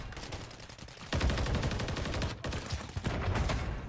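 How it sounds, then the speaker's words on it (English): Rapid bursts of automatic weapon fire in Call of Duty: Modern Warfare III during a Hardpoint match, loud and close, with several sharp strings of shots and short breaks between them. "Taking fire over here!"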